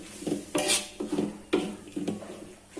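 Oyster sauce being stirred into fried oyster mushroom noodles in a pan, heard as repeated scraping and clinking strokes against the metal in an uneven rhythm, close and fairly loud, with no talking.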